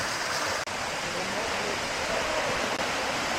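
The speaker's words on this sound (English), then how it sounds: "So the further up you come, the larger the waterfall will be." Steady, dense roar of a waterfall in Kosovo, a continuous broadband rush filling the whole moment without a break, loud and close with no voices over it.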